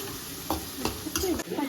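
Curry leaves fry in hot oil with a bright crackling sizzle, punctuated by a few sharp pops and the scrape of stirring close by.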